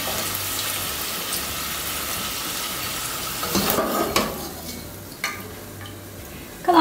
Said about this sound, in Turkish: patatesini de aynı şekilde kızartacağım